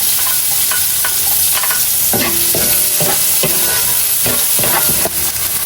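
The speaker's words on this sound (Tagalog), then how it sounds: "nagpainit na ako ng mantika at magigisa na po tayo ng bawang at sibuyas" Garlic and onion sautéing in hot cooking oil, a loud continuous sizzle with repeated scrapes and knocks of a spatula stirring the pan, close up and without voices.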